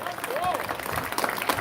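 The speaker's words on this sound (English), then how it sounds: "Round of applause there for Emma." An audience applauds at a strongman competition after a woman lifts a stone, a burst of clapping heard under a commentator talking loudly over it.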